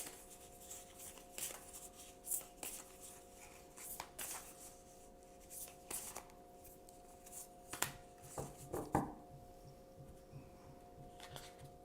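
A deck of oracle cards is shuffled by hand, soft, quiet riffling and sliding in irregular bursts with light tapping, close up and without talk.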